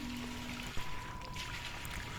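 Water poured from a bucket onto tobacco plants, a steady broadband wash of splashing and trickling with a brief stronger splash near the middle, continuing alone without voices.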